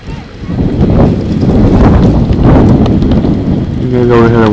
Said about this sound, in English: the wind picking up a little bit